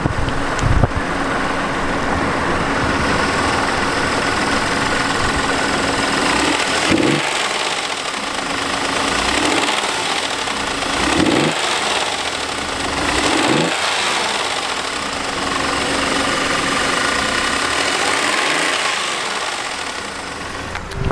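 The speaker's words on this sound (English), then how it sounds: "I'm gonna rev it up and let you hear." A high-mileage Audi A6 Quattro with the 3.2L engine runs close by with a steady, busy drone. It rises in a few short swells, with faint thumps between them, and keeps going for the whole stretch.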